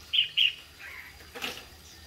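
A red-whiskered bulbul gives two short, sharp chirps close by, followed by softer calls and a brief flutter of wings, with quiet background between.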